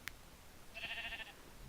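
A sheep in the video game Minecraft gives a single short, faint bleat, heard alone against quiet background ambience.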